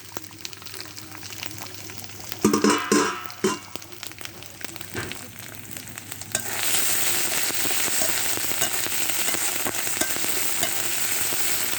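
Ginger, onion and garlic paste frying for goat meat starts with scattered clanks and stirring, then a pan swells into a loud, steady sizzle that carries on close by with no talk.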